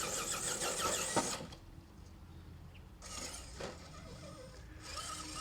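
A rock crawler's engine revs in bursts as it struggles for wheel speed in mud on a canyon trail course, with loud, rough surges separated by quieter idling gaps.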